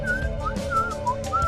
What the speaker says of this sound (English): I paused and stood still, then began hearing whistling,